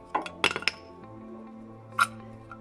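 Metal clinks from brake pads being pulled out of the caliper on a BMW Z4 during a pad and rotor change, a few sharp close taps early and one more a moment later over a low steady hum.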